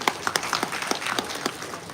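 University event audience giving a brief round of applause after a quiz answer, a short burst of overlapping hand claps that stays steady and moderately loud.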